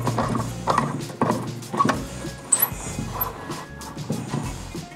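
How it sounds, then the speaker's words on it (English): Mechanical ratcheting and metallic clicks from tightening the HIC compression parts on a custom pro scooter build, in irregular bursts of close, moderately loud clatter with no talk. "Tighten her up."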